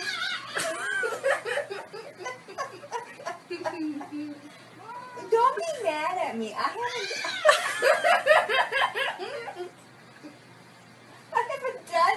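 A cat meows a few times amid lively talk and laughter from people nearby, the voices loud and close throughout.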